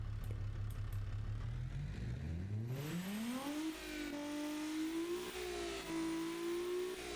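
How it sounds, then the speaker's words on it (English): A custom-built video game car engine tuned to resemble a Nissan GT-R revs from a low idle into a rising, sustained high-pitched whine that holds steady and loud, with no talking. "I'm gonna show you one that I just made. I don't know, tell me if it sounds like a GTR or not."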